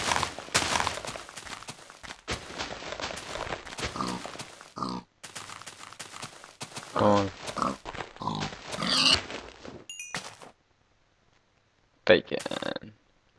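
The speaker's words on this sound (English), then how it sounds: "Ooh, what are these things? Pigs!" Pigs grunting in a Minecraft game world, short oinks popping up now and then beneath nearly continuous nearby talking, with a brief quiet gap near the end.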